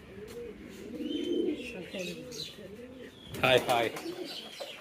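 Pet pigeons, including peacock (fantail) pigeons, coo in low throaty bursts nearby while a person calls out over them, with a louder flutter of calls near the end.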